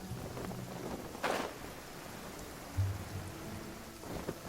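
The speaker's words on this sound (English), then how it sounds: "It's raining again?" Rain falls in the video game Genshin Impact as a steady, hissing downpour, with a couple of brief louder splashes or thumps rising out of the constant wash.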